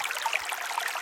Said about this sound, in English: the garden was once again filled with the sound of moving water